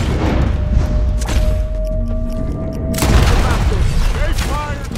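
Heavy gunfire and booming shots in a Red Dead Redemption 2 shootout with soldiers, loud dense bursts layered over game music and shouted voices.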